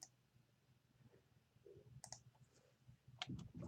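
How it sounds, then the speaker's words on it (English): A few soft, sharp mouse clicks on the Add Category button while setting up a Moodle gradebook, faint and isolated in a quiet room with no talking. "Click the button Add Category."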